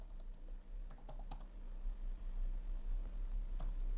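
Steady keystrokes on a computer keyboard while entering code for an Excel data-entry form, clicking in an irregular stream at close range, no talk.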